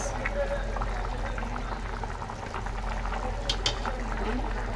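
A pot of snakehead fish curry bubbles toward a boil, a soft continuous simmering burble at low level with a few brief clinks and background voices faintly underneath.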